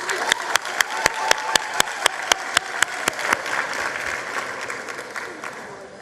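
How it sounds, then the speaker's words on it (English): Applause at a results announcement ceremony, a steady rhythmic unison clap beating sharply for several seconds over a wash of crowd clapping that then loosens into scattered applause and murmur. "A round of applause for KwaZulu Natal."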